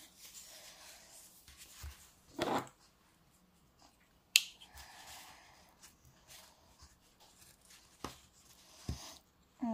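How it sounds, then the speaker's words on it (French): Bits of tape peeled off a canvas: quiet close handling with a few sharp snaps and short ripping sounds, spaced irregularly between soft rubbing noises. "On va enlever les bouts de scotch, comme d'habitude."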